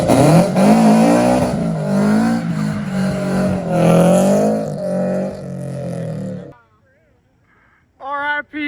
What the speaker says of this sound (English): doing burnouts is one thing,